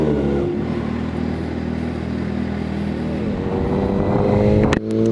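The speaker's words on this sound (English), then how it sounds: "It's really loud, guys. Listen to that." A loud 2013 Kawasaki ZX6R 636 motorcycle engine drones steadily up close, its revs lifting slightly toward the end before a brief sharp blip, with no talking.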